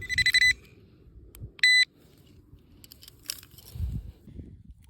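Metal detector in a Cantal field giving short electronic beeps over a buried nail, two bright tone bursts near the start and fainter ones later, over rustling outdoor handling noise.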